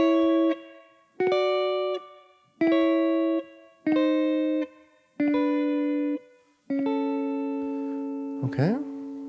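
Gospel-style guitar turnaround played slowly: six clean sustained chords struck one after another at a steady unhurried pace, each ringing before the next, ending with a quick sliding run at the close, with no voice over it.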